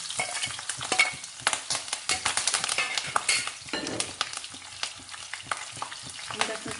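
Fenugreek seeds and green chillies fry in hot oil for Nepali bitter gourd and sesame achar, a close, busy crackling sizzle with frequent sharp pops and stirring scrapes throughout.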